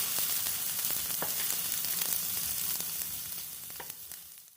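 Egg seasoned with garlic, salt and pepper frying in a pan, a soft steady sizzle with scattered crackles and pops that eases off slightly toward the end.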